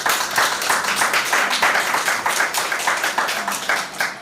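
An audience at a high school debating competition applauds steadily, a dense, continuous patter of many hands clapping throughout, close and fairly loud, with no talk over it.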